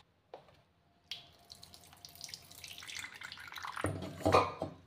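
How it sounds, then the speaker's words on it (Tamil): Thick coconut milk filtered through a strainer in a home kitchen for sweet pongal, heard as a brief clink and then a trickling, splashing pour that builds to a fuller wet gush near the end. "தேங்காய் பாலை நம்ம ஃபில்டர் பண்ணி எடுத்துக்கலாம்."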